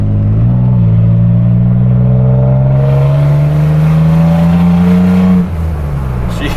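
A 2nd or 3rd generation Toyota Tacoma with a Pedal Commander accelerates hard in Sport Plus mode, the engine note climbing loud and steady through a gear before easing off, heard from inside the cab.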